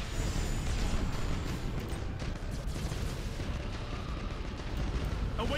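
Ship guns in Battlefleet Gothic Armada pound a space station with a continuous dense rumble of booming fire and blasts, steady and loud throughout with no clear gaps.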